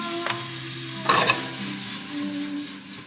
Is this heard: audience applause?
no